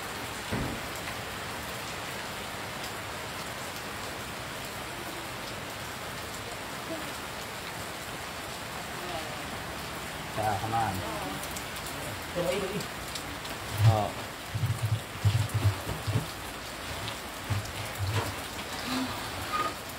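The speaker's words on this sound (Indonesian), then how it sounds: "Hujan ya, Bon." Steady rain falls outdoors as a continuous close hiss, with people talking softly beneath it in the later part.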